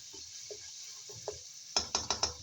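Minced meat, string beans, browned onions and garlic being stir-fried in a pan: a few soft scattered scrapes and clinks, then four sharp metallic knocks of the utensil against the pan in quick succession, with no talking.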